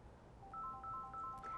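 A telephone rings in a radio studio during a call-in show, a faint repeating electronic tone pattern of short beeps that starts after a moment of quiet.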